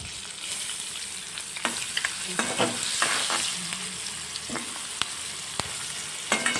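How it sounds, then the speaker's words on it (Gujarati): Onions and whole spices fry in oil for chole while being stirred, a steady close sizzle broken by occasional sharp scrapes and clinks of the spoon against the pan. "ડુંગળીને હું ગોલ્ડન બ્રાઉન સુધી હલાવી લઈશ"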